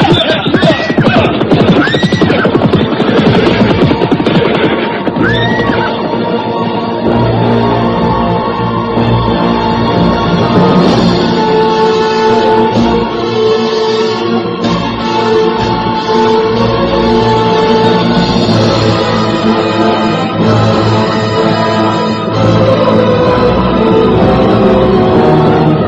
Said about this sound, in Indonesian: Sekarang kita bisa kembali meneruskan perjalanan dengan kuda.